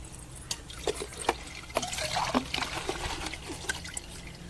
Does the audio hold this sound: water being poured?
yes